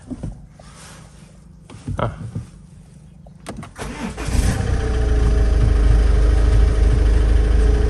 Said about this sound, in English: Let's switch the engine on.